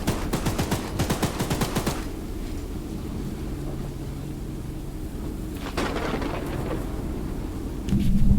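Rapid bursts of gunfire in the video game Choo-Choo Charles, fired at the moon: a fast volley at the start, a quieter stretch, then another short burst and a rising noise at the end.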